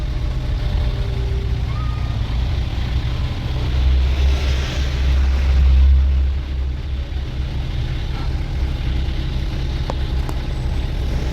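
Heavy Saturday street traffic with cars and trucks: a steady, loud low engine rumble mixed with wind noise, swelling briefly in the middle before settling back.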